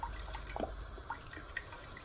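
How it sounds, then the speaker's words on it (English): Water is poured into a pickling mixture for fish, a soft trickle with a few light drips and splashes over quiet background hiss. "I'm also going to add water"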